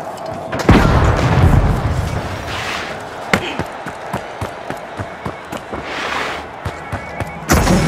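A frag grenade explodes in the video game The Finals, a loud close boom followed by a run of sharp cracks and impacts, with another heavy blast at the end.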